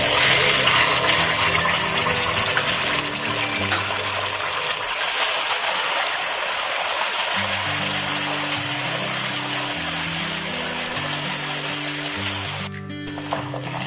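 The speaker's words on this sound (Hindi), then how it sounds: "ये इसके साथ फ्राई हो रहे हैं" Onion, black cardamom and cinnamon pieces fry in a pan for a Lahori chickpea dish, giving a steady, loud, broadband sizzle that runs throughout, with a rhythmic low musical backing underneath.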